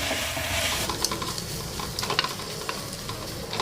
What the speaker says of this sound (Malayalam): അതിട്ടിട്ട് നന്നായിട്ടൊന്ന് വഴറ്റിയെടുക്കാം.